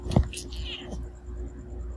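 A cat's short meow near the microphone at the start, followed by faint rustling and a quieter second cry, with low background hum.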